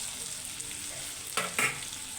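Onions sizzle quietly in a pan after salt goes in, with a low steady frying hiss and two short scraping bursts of stirring near the end.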